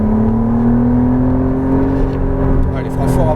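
McLaren Artura engine pulling under steady acceleration on a circuit, a loud continuous drone with a slowly rising pitch and a faint whir, with a voice talking over it near the end.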